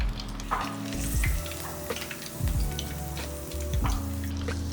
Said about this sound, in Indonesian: Yang penting harus dipanasin dulu di minyak, baru dituangin adonan.